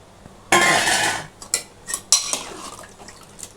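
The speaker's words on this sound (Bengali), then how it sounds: "আচ্ছা দেখো এবার আলুগুলো আমি ঢেলে দিলাম।" Potatoes tumble into a metal pot of cooking mutton with a loud rattling pour, followed by a few sharper clinks and scrapes of utensils against the pot.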